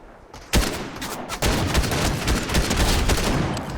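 DMR rifle shots in Fortnite, a sharp report followed by another, then sustained crackling gunfire and battle noise that stays loud and close throughout.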